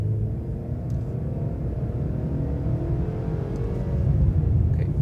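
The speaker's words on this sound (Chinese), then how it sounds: "要点一点油门。" A 2022 Mercedes-Benz E200 facelift, rear-wheel drive on 18-inch wheels, accelerating on the road: a steady low engine rumble and tyre whir that swells slightly toward the end, heard from inside the car with no talking.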